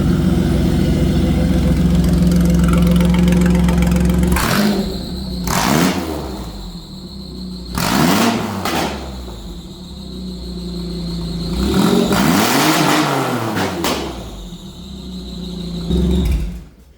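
A car engine running again after a cheap TEMU fuel cell and battery relocation, idling steadily at first, then revved in several rising-and-falling bursts close by, with no speech.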